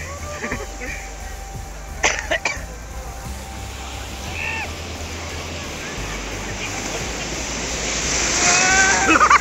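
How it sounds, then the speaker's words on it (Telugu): Big ocean waves washing onto a beach, a steady roar of surf and wind buffeting the microphone that swells louder toward the end, with brief voices and splashes near the start. "అంత పెద్ద పెద్ద అలలు వస్తున్నాయి"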